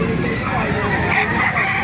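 Chickens at a crowded poultry market in Calumpit, Bulacan, cluck and squawk steadily and close by, overlapping with background crowd chatter and voices throughout.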